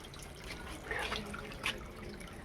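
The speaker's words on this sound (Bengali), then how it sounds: "এদিকে দেখো সাপ্লাই জল করতেছে" Supply tap water runs in a steady, close rushing stream with a few brighter splashes over a continuous watery hiss, and no voices.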